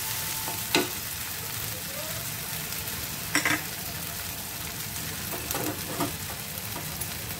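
Spice paste with ground white pepper sautés in a pan, giving a low continuous sizzle broken by a few sharp spoon scrapes and clinks as it is stirred, close by.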